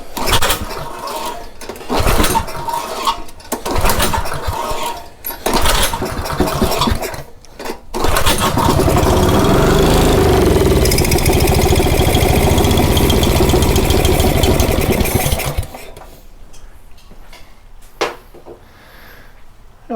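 A Honda GX270 small engine with no compression runs at half throttle, a loud steady chugging drone that settles in after some clattering starts and then cuts off, leaving quiet.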